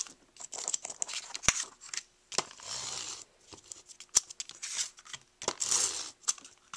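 Decorative duck-patterned tape being handled and cut for a checkbook cover, with close, crisp snips, crinkles and sticky tearing in irregular bursts, a few sharp clicks, and no talking.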